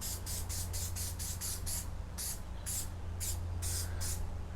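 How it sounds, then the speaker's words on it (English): An aerosol can of spray adhesive hisses in a rapid series of short bursts over a sanding table surface, about a dozen close, loud sprays with brief gaps, over a low steady background hum. "I'm gonna actually spray this side too."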